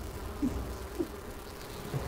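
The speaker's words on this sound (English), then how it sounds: "Yes, I'm going to axe the bees." Bees buzzing in the video game Enshrouded, a low steady insect drone with a few brief louder bumps, close and continuous without speech.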